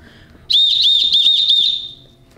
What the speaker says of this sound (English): And it also has a whistle.